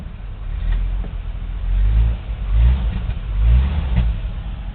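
The engine of a 1982 Chevy truck runs at high idle on a cool day, a close, loud, low rumble that swells and eases in slow surges. No one speaks.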